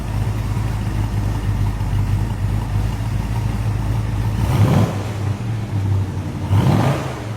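A Ford Falcon police sedan's 351 cubic inch Cleveland V8 with 4 barrel heads rumbles loudly up close at a steady idle, then rises in two short revs, with no talking.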